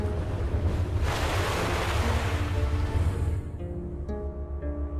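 Ocean surf rushes in a broad, roaring wash, swelling loudly and then easing to a softer hiss as wind buffets the microphone, with no voices.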